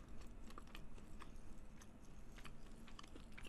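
Close-up chewing of rye bread on one side of the mouth, with soft crunchy bites and moist mastication repeating steadily and alone, with no talk.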